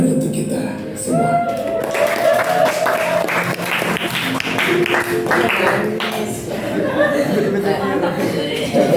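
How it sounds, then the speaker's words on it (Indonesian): A class group applauds together, with scattered claps and light laughter and voices mixed into the steady, fairly loud clapping. "Kasih tepuk tangan untuk kita semua."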